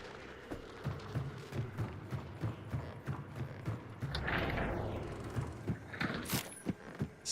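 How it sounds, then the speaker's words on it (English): Horse hooves clip-clop in a steady trotting rhythm inside a hunting video game, fairly close and clear, with a brief rush of movement and a couple of mechanical clicks midway and no talking. "did I just hear a horse that way somewhere?"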